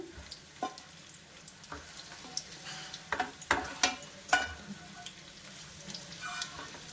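Potato chunks frying in a pan until brown, with a soft low sizzle broken by scattered clicks and scrapes from stirring, fairly quiet and with no voices.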